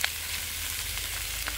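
Roast duck is stir-fried in a hot pan, giving a steady close sizzle with a couple of brief scraping stirs.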